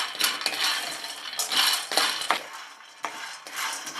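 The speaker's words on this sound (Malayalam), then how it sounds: "ലോ ഫ്ലെയിമിൽ ഇട്ട് സാവകാശം ഇത് റോസ്റ്റ് ചെയ്ത് എടുക്കുക" Chickpeas roasting over a low flame in a pan, stirred with a metal spoon, giving repeated scraping and rattling clinks in uneven bursts, close and fairly loud with no talking.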